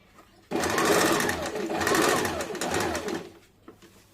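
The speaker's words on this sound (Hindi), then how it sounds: "इस प्रकार ब्लाउज के बाँह में पूरे में डबल सिलाई चला लेंगे।" A sewing machine runs a double line of stitching along a blouse sleeve, starting abruptly after a short quiet moment and whirring steadily and fairly loudly for about three seconds before trailing off into faint handling sounds.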